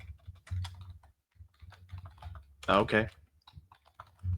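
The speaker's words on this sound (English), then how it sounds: "There's going to be a little bit of typing through this, so I do apologize." Clicky computer keyboard typing close by, in irregular bursts of keystrokes while someone speaks briefly over it.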